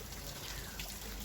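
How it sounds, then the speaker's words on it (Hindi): Rain falls in a village in the morning, a faint, steady wash of drops and trickling water with no pauses. "ये सुबह सुबह का ही है और बारिश हो रही है"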